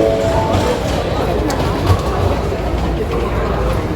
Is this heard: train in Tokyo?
yes